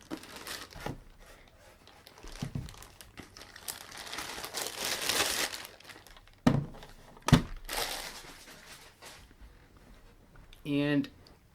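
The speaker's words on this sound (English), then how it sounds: "I have all the plastic bags everything came in" Plastic bags crinkle and rustle during the unboxing of a Sega Dreamcast packed in a tray, with a few sharp handling thumps and a person talking at moments.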